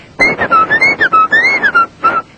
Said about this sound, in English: I started whistling.